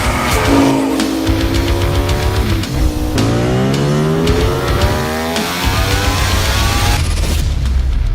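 A Ducati Panigale V4 S superbike engine screams loudly, climbing through the gears with sharp rising pitch sweeps and brief drops between shifts, close and continuous.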